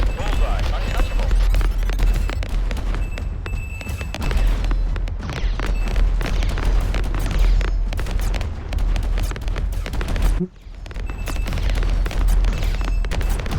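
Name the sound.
projectiles firing in a video game, Galactic Outlaws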